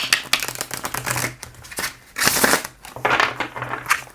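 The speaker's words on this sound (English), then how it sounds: "So you can shuffle them nicely." Linen-finish paper tarot cards are shuffled by hand nearby, producing quick papery riffles and soft slapping bursts in several uneven runs with short pauses.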